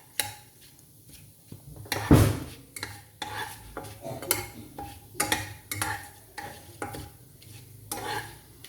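Cumin seeds fry in hot mustard oil in a pan while a utensil stirs and scrapes, producing a soft sizzle with scattered clinks and taps, a louder scrape near the start, all fairly quiet.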